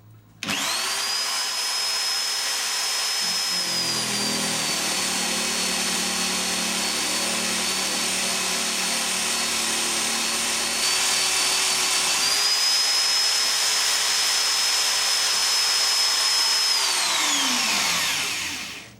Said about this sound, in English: here I'm lucky enough to have a little drum sander, so I'm going to smooth the inside of that.